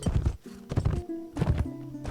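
A horse in the video game Mount&Blade: Fire and Sword gallops with loud, rhythmic clip-clop hoofbeats in quick bursts, broken by short whinnies and snorts.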